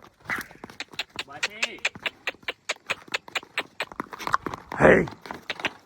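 A mare is led and pulled along, her hooves clip-clopping in a steady run of sharp, evenly spaced strikes close by, while people call out and talk over them.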